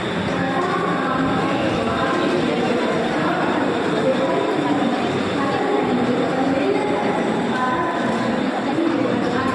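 A train runs along its rails in a steady, unbroken rumble and rattle that fills the whole stretch, with faint voices buried beneath the noise.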